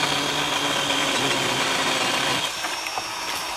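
A DeWalt DCMPS567N cordless pole saw cuts a tree branch overhead, giving a loud, continuous buzzing drone that drops in intensity toward the end, with no speech.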